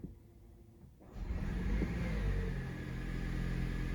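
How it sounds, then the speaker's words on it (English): The engine of a 2023-2025 Toyota Prius hybrid turns over and catches after a second of quiet, then settles into a steady, close idle with a low rumble. "press the accelerator pedal to start the engine"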